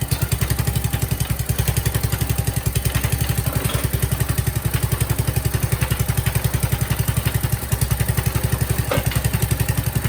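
Qualcast 35s lawn mower engine running on choke, a steady rapid single-cylinder putter with a rough clattery edge, loud and close throughout with no talk.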